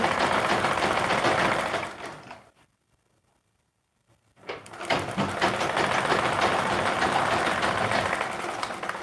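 A sewing machine stitches fabric at a half-inch seam, running loud and steady up close, stopping for about two seconds of near silence, then starting again and continuing to the end.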